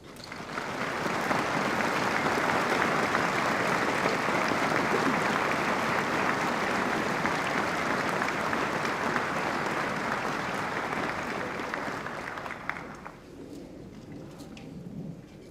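Veterans ceremony audience breaks into loud, sustained applause honoring Korean War veterans leadership, a dense wash of clapping that holds for about twelve seconds before tapering off.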